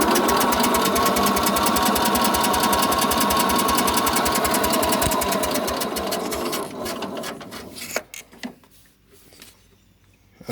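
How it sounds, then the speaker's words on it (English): A Sears garden tractor engine cranks over and over without catching, a steady loud rapid chugging that runs for several seconds before slowing, sputtering and dying away into near silence with a few final knocks. "I've been trying 5 minutes to get this Sears to start, and I can't."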